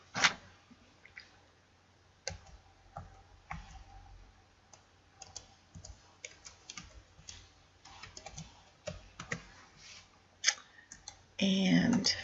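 Computer mouse clicks and keyboard typing while entering patient data into a records system, scattered sharp near taps and clicks at irregular intervals, with a brief louder burst near the end and no talk.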